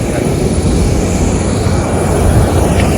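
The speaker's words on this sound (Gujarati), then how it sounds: "આ ફ્લાઇટ આપણી આ સ્પાઇસ જેટની" A SpiceJet airplane fills the cabin with a loud, steady, broadband engine and airflow roar that holds constant from start to finish.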